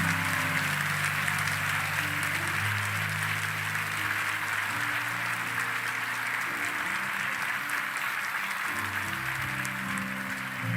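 A church congregation applauding loudly, a continuous even roar of clapping held for about ten seconds, with low sustained musical tones underneath and no speech.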